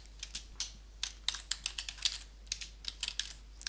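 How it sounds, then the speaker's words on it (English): Rapid, uneven keystrokes tap on a computer keyboard as a folder name is typed, crisp close clicks in short bursts over a low steady hum. "click on the New Folder button at the top left-hand corner and type the name of the folder."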